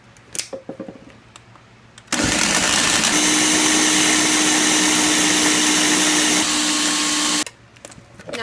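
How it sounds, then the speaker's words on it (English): A blender whirs loudly and steadily for about five seconds, mixing coconut oil black tahini brownie batter, then abruptly cuts off, with quiet kitchen handling before and after. "Alright, so now we're going to blend this up."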